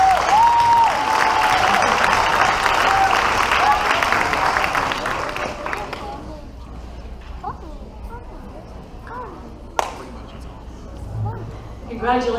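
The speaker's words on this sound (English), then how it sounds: "one final round of applause for all our champions." Audience at a school board meeting applauds robotics champions, loud dense clapping for about six seconds that then thins out to scattered claps and room murmur with a few faint voices.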